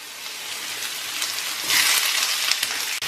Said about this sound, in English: over here with some oil, I'm going to go ahead and add my onions, my garlic, my hot pepper, my sweet pepper